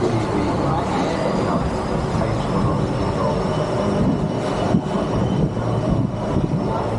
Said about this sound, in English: trams driving along through Skull Island